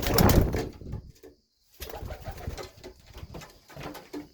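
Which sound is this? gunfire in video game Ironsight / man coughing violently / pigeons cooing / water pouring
pigeons cooing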